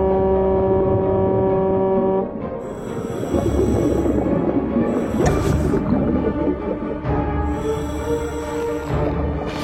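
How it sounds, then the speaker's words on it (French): A deep, loud foghorn blares in long sustained tonal blasts, several in succession with rumbling, breathy noise between them, in an animated cartoon rescue scene. "La corne de brume."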